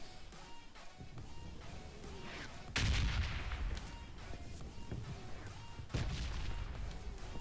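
Gunfire in the mobile battle-royale game PUBG Mobile Lite while a bot is shot: two sharp, loud bursts of shots over steady in-game ambience, with no talking.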